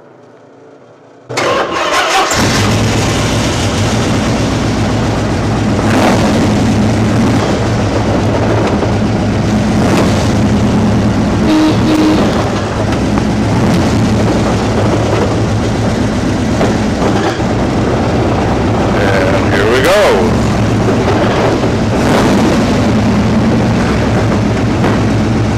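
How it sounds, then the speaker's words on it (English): A dual overhead cam V8 in a recreated classic car starts with a sudden roar after a quiet moment, then settles into a loud, deep, continuous idle rumble with occasional blips, close and steady. "listen to that dual overhead cam V8 engine."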